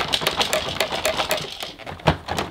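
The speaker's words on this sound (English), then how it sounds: "There's something rattling about in here." A Dyson DC14 upright vacuum cleaner runs with something loose rattling inside, giving a fast, irregular clatter of sharp ticks and knocks over a steady motor whir.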